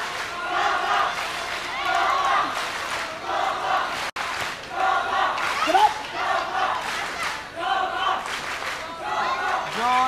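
An arena crowd at a Japanese women's pro wrestling title bout between Bison Kimura and Inoue Kyoko roars in steady waves of shouted cheers and chants, loud and continuous for about ten seconds with a brief dropout midway.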